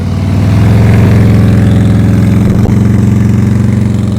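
A motorcycle engine runs loud and close with a steady low chug during slow speed riding practice, holding a near-idle throttle with a faint blip midway and no voices.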